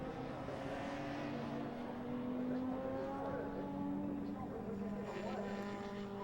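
Pre-1983 classic touring cars, including Jaguars, a Triumph and a Ford Escort, race at Donington Park, their engines droning and rising as they pass under a commentator's ongoing talk.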